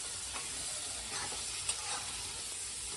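Chili powder stirred into a sizzling home-style curry, a soft steady frying hiss with faint scraping strokes, quiet and without any talking.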